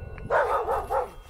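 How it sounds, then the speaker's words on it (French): A few quick barks from a small dog in a short burst, close by and fairly loud, with no talking, during exploration of an abandoned Masonic temple. "il y a un chien qui se met à aboyer"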